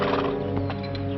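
A horse gives a short whinny with faint hoof movement in a quiet outdoor setting, a brief close sound lasting about a second with no speech.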